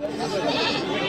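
A single goat bleats at a rain-soaked livestock market, a brief, wavering nasal cry close by, over the murmur of the crowd.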